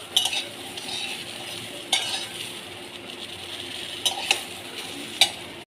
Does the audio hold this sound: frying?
yes